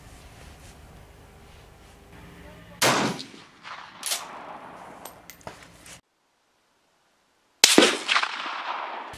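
Sharp rifle shots crack at an outdoor shooting range, two distinct reports a few seconds apart with echoing decay, loud against quiet background noise, the second after a brief silent gap.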